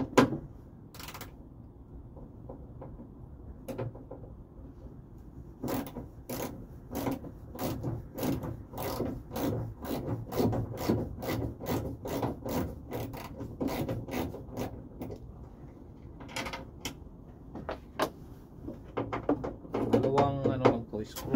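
A ratchet wrench with a small socket backs out the screws on a vehicle signal light, giving a long run of quick, close metallic clicks in steady bursts over a low background hum.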